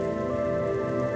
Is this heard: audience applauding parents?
no